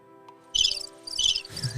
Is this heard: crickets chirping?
yes